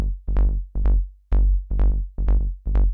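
Dry rolling techno bass line with no reverb, short swung pairs of punchy low synth notes with bright plucky attacks, tight and loud, playing alone.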